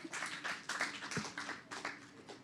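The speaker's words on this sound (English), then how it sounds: "Please give another round of applause for Carrie" A small audience at a speaking event claps, with scattered uneven hand claps coming in bursts, fairly close and modest in volume.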